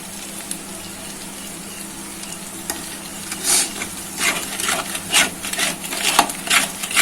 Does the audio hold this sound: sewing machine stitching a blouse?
no